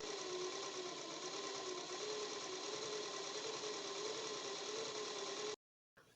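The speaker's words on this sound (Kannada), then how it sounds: "ಈ ಸೈಡು ಕೂಡ ಡೋರಿನ ಮೇಲ್ಭಾಗ ಇಟ್ಟು ಅದೇ ರೀತಿ ನೀಟಾಗಿ ಸ್ಟಿಚ್ ಮಾಡ್ಕೊಳ್ಳಿ" A sewing machine runs steadily while stitching piping along the edge of a blouse, a continuous close mechanical whir that stops abruptly near the end.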